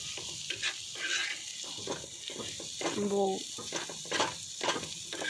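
Egg frying in a pan on a stove turned up, a steady close sizzle and crackle with scraping from a spatula, while a person talks over it.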